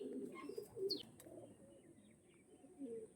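Domestic pigeons cooing nearby, soft low repeated coos with a few faint chirps from other birds, and no voices.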